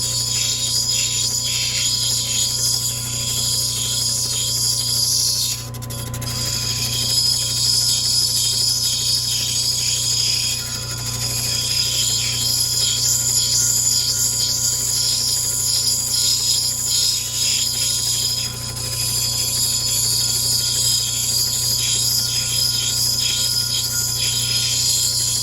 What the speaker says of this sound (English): I'll grind right where it's a little high and bring it down and kind of straighten that up.